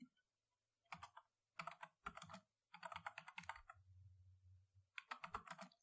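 Typing on a computer keyboard while entering an SQL statement: several bursts of quick, crisp key clicks, close and clear, with short pauses between groups and no talking.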